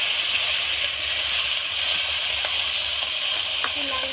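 Food frying in a pan and being stirred, a dense, constant loud sizzle with a few faint scrapes and clinks of the utensil breaking through.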